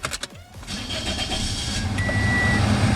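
A Toyota Corolla engine, just after an oil change, cranks with a few quick pulses and catches, then settles into a steady idle that carries on alone.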